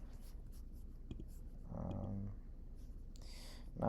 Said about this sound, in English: we're gonna write 8R